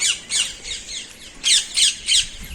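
Many parrots squawking together, harsh shrill calls coming in repeated bursts at close to moderate distance, with no talk.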